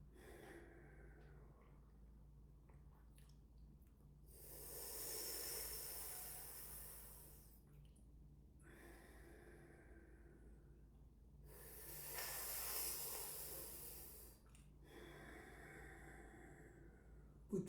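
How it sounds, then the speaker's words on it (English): A person doing pranayama, breathing out through the nostrils with a slow hissing, snorting exhale. Three drawn-out nasal breaths rise and fade against a quiet room, with no talking. "Close your mouth, breathe out through your nostril."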